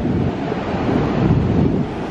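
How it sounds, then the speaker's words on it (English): Steady gusty wind buffets the microphone at an ocean beach, with surf rolling underneath in a continuous roar; no one speaks. "we made it to the ocean. It's windy, the dogs wanna play."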